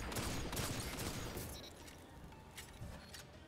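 Rapid bursts of gunfire in Destiny 2, dense and fairly loud at first, then thinning into scattered shots with a lingering rumble, no talking over them.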